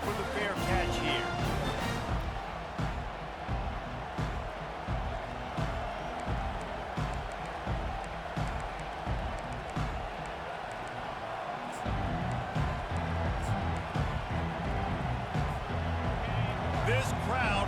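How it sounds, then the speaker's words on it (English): A packed stadium crowd at a college football game in NCAA 25 roars in a constant loud wash throughout, with a commentator talking over the noise. "This crowd bringing an ear-splitting welcome to their visitors."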